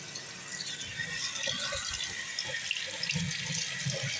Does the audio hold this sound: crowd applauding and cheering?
no